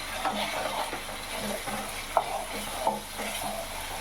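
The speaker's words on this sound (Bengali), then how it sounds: "ভালো করে মশলার গন্ধ যাওয়া পর্যন্ত এটাকে ভালো করে কষিয়ে নিতে হবে" Ground coriander and other spices fry in oil in a kadai as a spoon stirs them, giving a soft continuous sizzle broken by occasional scrapes and taps on the pan.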